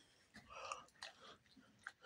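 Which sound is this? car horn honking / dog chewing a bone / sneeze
dog chewing a bone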